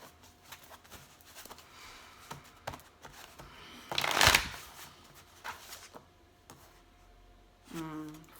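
Tarot cards shuffled by hand, a loud riffling burst in the middle followed by softer card taps and light handling, heard up close in a quiet room.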